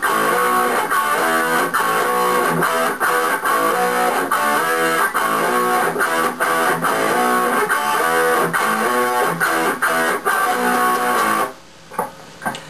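Distorted electric guitar playing the outro of a punk song: loud, driving chugged power chords in a steady fast rhythm with sharp accents, ending abruptly on a couple of final hits with brief ringing.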